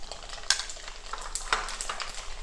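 Mustard seeds spluttering in hot coconut oil for fish pickle, a quiet pan crackling with scattered sharp pops, two louder bursts standing out above the soft sizzle.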